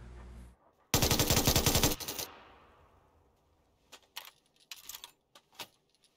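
Gunfire in the shooter game PUBG: a loud, sustained burst of rapid automatic fire, followed after a pause by several shorter, quieter shots and clicks.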